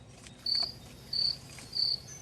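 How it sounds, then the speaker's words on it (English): A single cricket chirps nearby in a warm, sunny outdoor setting, three evenly spaced bright trills standing out over a faint, steady background hiss. "the sound of a cricket chirping away not far"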